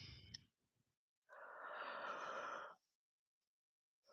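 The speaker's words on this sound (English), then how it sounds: "I am sorry for the yawn" A single drawn-out yawn from someone sitting and crocheting, a soft breathy rise held for over a second before trailing off, close and quiet, with a brief exhale just before it.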